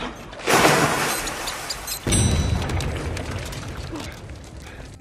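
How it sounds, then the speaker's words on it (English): A rat bomb goes off in an action film scene, a sudden loud blast followed by a second burst with rumbling debris and scattered crackles trailing away. "He gives us a quick explosion to add as he shows us how it works."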